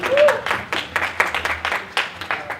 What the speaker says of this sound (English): That gets applause. Applause.